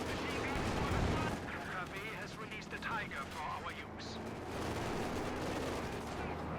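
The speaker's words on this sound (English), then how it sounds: "Grenadiers opening fire." Rifle and battlefield fire crackle in Company of Heroes 2 as grenadiers open up on a highway battlefield, with dense, continuous shots and distant booms running under a commentator's talk.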